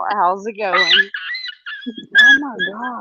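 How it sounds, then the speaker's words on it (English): A small, cute dog gives high wavering whimpers and short yips, mixed with a person talking nearby. "That's a dog,"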